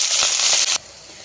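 Chopped spinach dropped into a hot garlic and cumin tempering in oil gives a loud, bright sizzle that crackles for under a second, then quickly fades to a quiet hiss.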